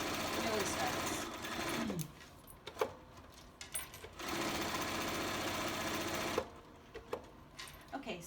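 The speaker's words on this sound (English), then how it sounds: "I sew around it again, go all the way around" A sewing machine stitching around a folded star fabric coaster, a close rapid mechanical whirring in bursts of a couple of seconds separated by quieter handling clicks, with a voice talking between runs.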